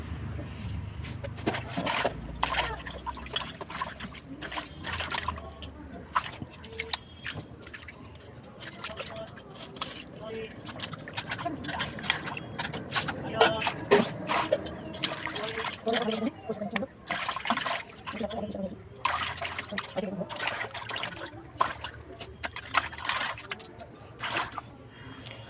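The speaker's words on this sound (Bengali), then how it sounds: "তো ভালো করে একটু জল দিয়ে ভালো করে ধুয়ে নেব।" Fish are rinsed and scrubbed by hand under water, giving irregular splashes, trickles and scraping sounds close by, with a person talking intermittently over them.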